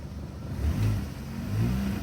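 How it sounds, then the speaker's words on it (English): A 2002 Mini Cooper R50 engine is revved during a coolant bleed, producing a low, steady mid-pitched drone that swells twice in brief rises, close and alone. "just give it more revs and see if I can get this needle to move at all"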